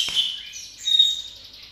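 A fighter-type magpie robin (murai) sings a short run of bright, high warbling notes with a sharp chirp near the start, close and fairly clear over a quiet background.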